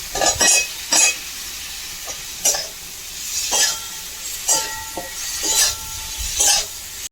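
Fried potatoes go into a spice masala for aloo kosha, with a spatula clattering and scraping against the pan in uneven bursts over a light sizzle.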